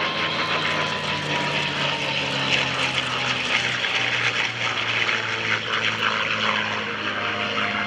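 A P-51 Mustang propeller fighter makes a low pass at a military open house air show, its loud, rough piston-engine drone and propeller roar filling the air continuously with no talk over it.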